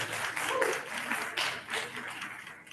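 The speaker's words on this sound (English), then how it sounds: "Let's give our panelists a great big round of applause." Audience at an educators' forum on students of color applauds the panelists, a dense, steady patter of many hands clapping for a few seconds with scattered voices mixed in.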